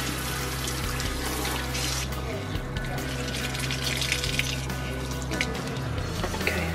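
Tap water runs steadily to rinse blood from a child's split-open head wound, with a continuous splashing flow and a low hum underneath, while adults speak softly in the background.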